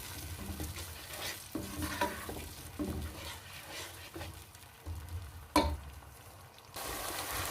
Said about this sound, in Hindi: इसको भी तकरीबन 2 से 4 मिनट इसको भूनेंगे अच्छे से, ताकि ये लहसुन और अदरक की स्मेल ख़त्म हो जाए।